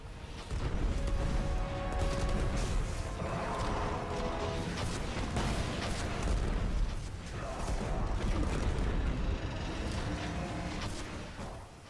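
Warpath weapon in Destiny firing on a boss, dense continuous booming gunfire with crashes and mechanical clatter sustained at full loudness throughout, no talking.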